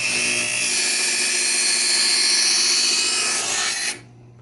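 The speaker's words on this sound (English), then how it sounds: "you can actually hear the actual part inside turning and sharpening the knife" An electric knife sharpener grinds steadily as a knife blade is drawn through its slot, giving a loud continuous rasping whir that ends abruptly after about four seconds, leaving a low motor hum.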